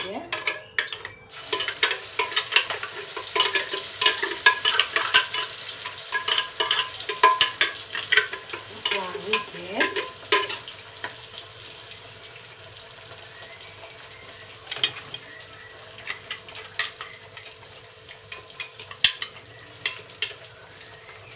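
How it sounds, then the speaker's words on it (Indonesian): Spice paste for acar frying in hot oil as it is stirred, busy crackling and scraping for about ten seconds, then a quieter sizzle with sparse pops. "ini sesudah minyak panas guys, kita tuangkan"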